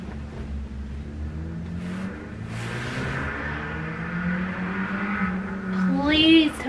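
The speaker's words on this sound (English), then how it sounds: "It is like a drag race out here nonstop where I live." Cars rev and race along the street outside an apartment, a steady engine drone that swells into a louder pass near the end, heard from indoors at moderate distance.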